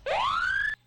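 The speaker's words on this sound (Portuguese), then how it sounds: "Deixa eu só colocar a sirene aqui, que eu esqueci da sirene" A siren sound effect, a single rising electronic wail that sweeps upward and cuts off abruptly after under a second, loud and clear with no talk over it.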